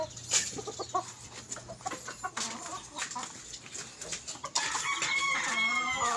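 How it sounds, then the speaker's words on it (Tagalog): Chickens cluck and a rooster crows nearby in a hot farmyard while the hens peck about, with scattered calls rising over a steady background and growing busier toward the end. "Meron din ding manok mga guys na nanunuka."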